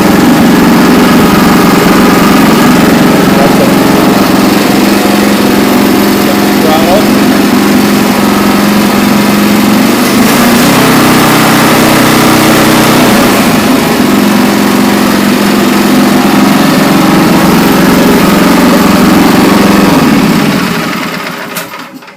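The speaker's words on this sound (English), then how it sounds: "Took it out and did a little test till with it, and it's working good. Fires right up." A Troy-Bilt Horse rototiller engine running steadily after a single pull start, a loud, close, continuous small-engine drone that holds even for about twenty seconds before cutting off at the end.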